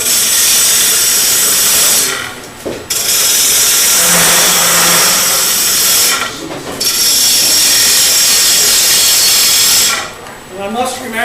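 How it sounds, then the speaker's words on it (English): A small wood lathe runs with a steady broadband whir while a turning tool is sharpened; the hiss-like grinding holds loud and continuous, breaking off in brief pauses a few times. "I'm working on a small lathe"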